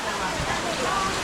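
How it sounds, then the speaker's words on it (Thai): Steady outdoor rain makes an even, dense hiss for the whole moment, fairly loud and close, with no voices over it. "หลีกเว้นบ่ได้ฟ้าก็มีฝน"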